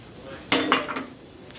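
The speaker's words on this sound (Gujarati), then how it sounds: "સરસ મજાનું હલાવી દઈશું" A spoon stirs a hot spice tempering for dal dhokli in a pot, a sudden sizzling burst followed by a few scraping strokes that fade out, close and fairly loud with no talking.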